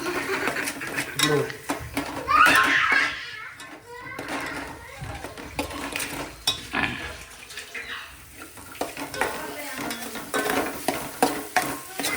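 A crab curry with ginger-garlic paste is stirred in a pan, giving scraping, sizzling kitchen sounds under ongoing conversation.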